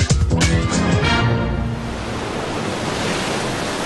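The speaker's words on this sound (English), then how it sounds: "this is where Stan would view the beautiful Pacific Ocean" Pacific Ocean surf at Santa Monica, a steady broadband wash of breaking waves that swells briefly at the start and then settles into a continuous roar, with no voices.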